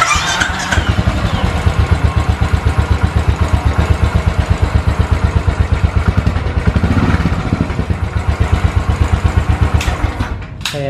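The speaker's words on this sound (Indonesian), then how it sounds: "Gua kurang suka dengan suara knalpot standarnya Royal Enfield Continental GT." A Royal Enfield Continental GT cafe racer on its stock exhaust thumps close and loud in a steady, even low pulse, a single-cylinder beat idling with a little mechanical clatter on top.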